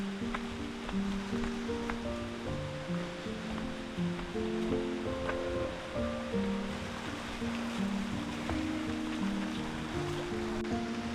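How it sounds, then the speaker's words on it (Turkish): A stream of running water in the countryside near Arusha, Tanzania, gives a steady, broadband rushing wash, partly mixed with tonal background music. "Bir taraftan da böyle su akıyor, akarsu akıyor."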